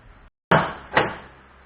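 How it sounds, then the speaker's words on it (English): Electric latch on the rear door of a Toyota FJ Cruiser, heard as a sharp click followed a moment later by a second thunking pop as the door releases, close and clear with no talk. "Pops that door right open."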